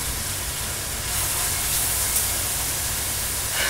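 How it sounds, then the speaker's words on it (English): Short ribs that were patted dry sear in hot oil in a pan, giving a loud, steady, broadband sizzling hiss that runs on without a break. "When you're going to sear the meat, you put it in the oil in the pan."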